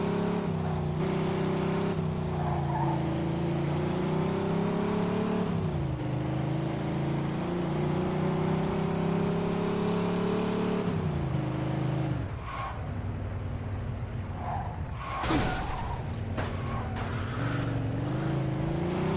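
A car driving in the video game Mafia 2, its steady engine drone running close and continuous, with a brief dip and a sharper burst of noise partway through.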